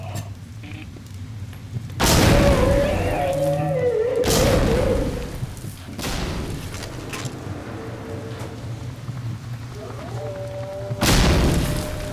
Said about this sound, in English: Grenades weren't very effective.